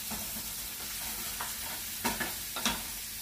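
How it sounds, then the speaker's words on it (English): Bacon fries in a pan with a constant close sizzle while a utensil stirs it, adding several scraping clacks toward the end; no one speaks. "let me go ahead and stir up the bacon"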